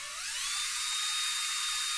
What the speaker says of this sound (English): You may have to drill out the remnants of the rivets